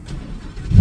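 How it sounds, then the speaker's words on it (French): Lamborghini Huracán Performante V10 revving while held on the brake, starting as a low rumble and swelling into a loud, close engine surge toward the end of the brief burst. "pour juste vous faire écouter le V10, donc encore une fois, vous appuyez ici, pied sur le frein et écoutez la mélodie."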